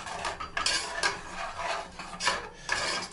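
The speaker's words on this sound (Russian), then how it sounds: "Так еще надо перемешать его. Перемешать хорошенько." A spoon stirs porridge with freshly poured boiling water in a pot, making repeated scraping and rasping strokes against the sides at a brisk, uneven rhythm, close and clear.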